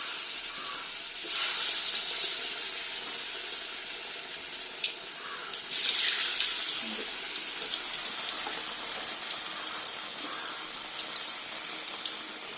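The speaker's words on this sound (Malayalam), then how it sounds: "അപ്പോൾ എണ്ണ ചൂടായിട്ടുണ്ട്. നമുക്കിത് ഓരോന്നോരോന്നായിട്ട് വറുത്തെടുക്കാം." Unnakaya, Malabar plantain dumplings, frying in hot oil, giving a continuous close sizzle with louder bursts as each piece goes in, then a steady bubbling hiss; no speech.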